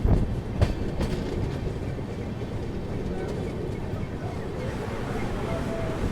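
The Gondwana Express rumbles steadily into Amla junction, a dense, low rolling roar of wheels and carriages with faint clatter throughout, heard from on board.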